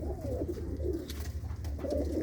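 A bought pigeon coos softly in low, rolling murmurs, faint and close within a quiet loft with a low background hum.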